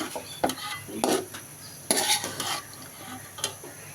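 Mixed vegetables for fried rice are stirred together in a hot pan, with utensil scrapes and clanks over a soft sizzle, close and irregular.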